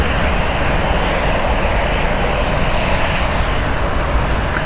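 A loud, steady jet engine roar from an airliner at Frankfurt Airport, broadband and constant throughout with no voices.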